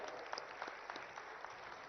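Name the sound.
applause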